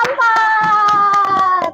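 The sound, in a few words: schoolchildren clapping for a group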